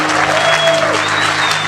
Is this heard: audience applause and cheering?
yes